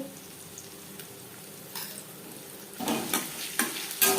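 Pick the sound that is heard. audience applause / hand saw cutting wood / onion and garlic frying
onion and garlic frying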